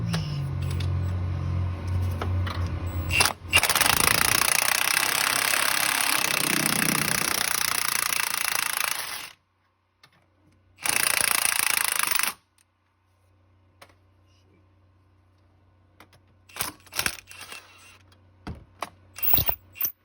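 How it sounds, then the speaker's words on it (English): An impact gun hammers on a 19 mm harmonic balancer bolt of a 2005-08 Pontiac Grand Prix GXP: a loud, close rattling burst of about six seconds, then a shorter burst, followed by a low hum and small clinks. "I'm going to use our impact gun here to get it off and see how this goes."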